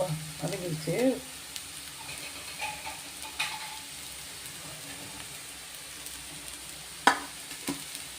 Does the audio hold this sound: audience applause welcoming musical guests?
no